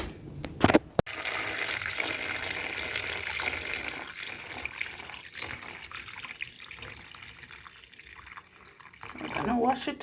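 Fish being washed under a running kitchen tap, a steady close hiss of flowing water with faint splashes and a clunk near the start, continuing alone with a brighter splashing burst toward the end.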